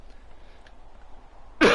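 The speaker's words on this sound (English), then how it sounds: "Sorry about the cough." A single sharp cough bursts out right at the end, close and loud after near silence.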